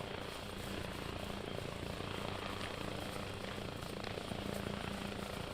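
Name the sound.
helicopters in the video game ARMA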